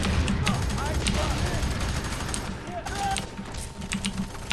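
Rapid gunfire in the video game F3AR, dense bursts and shots running throughout at a steady level, mixed with keyboard clatter and people talking over it.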